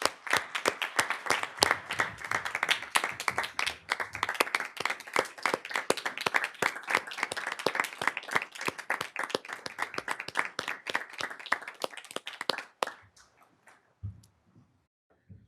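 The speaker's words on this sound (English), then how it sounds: "I just want us all to give you a round of applause." A school district board meeting audience gives a long round of applause, rapid overlapping hand claps at an even strong level for about twelve seconds, then stopping abruptly into near silence with a faint low thump.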